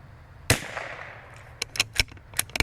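.22LR precision rimfire rifle fired at steel targets outdoors in wind: one sharp, loud report opens, then a decaying ring fades, followed by a quick burst of smaller close snaps and clicks.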